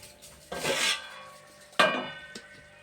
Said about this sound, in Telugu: ఇదండి కూర వేస్తున్నాను